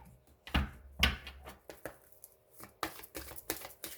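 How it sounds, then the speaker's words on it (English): Tarot cards are shuffled close by in a run of quick, crisp riffling and tapping bursts, irregularly spaced and fairly quiet, with no talking. "one more shuffle."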